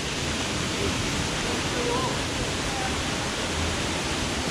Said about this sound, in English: That's the other waterfall.